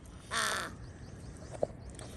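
A crow gives one harsh, moderately distant caw, followed by a faint short sound in an otherwise quiet outdoor setting.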